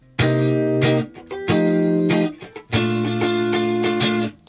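Electric guitar playing the verse ending of a song, with three bright sustained chord stabs separated by short muted gaps and small fills, played alone.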